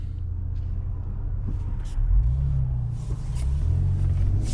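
A 2019 Lincoln Navigator rolls out of a dealership, a low engine rumble heard from inside the vehicle that swells as it accelerates, with faint background noises.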